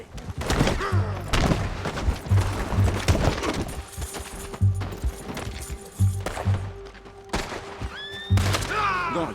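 Shootout in Red Dead Redemption 2, with repeated sharp gunshots spread throughout at close range, mixed with horse whinnies and hoof clatter in the background.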